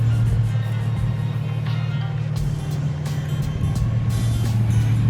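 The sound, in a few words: lowered Infiniti G35 coupe being driven in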